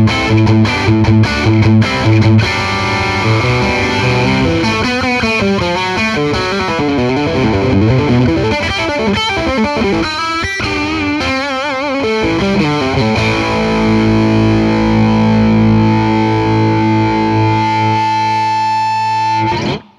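Electric guitar on the bridge pickup plays through a driven Orange Rocker 32 combo amp, giving a loud, distorted sound with busy fast runs in the middle before settling into sustained ringing chords.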